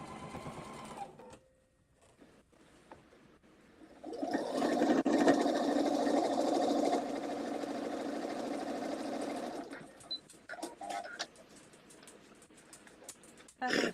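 A home sewing machine stitching, with a steady motor whir rising and holding for several seconds before slowing into shorter bursts, and faint voices in the background.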